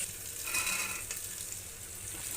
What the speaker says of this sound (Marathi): आता मी कांदा छान भाजून घेते ब्राऊन रंगावर.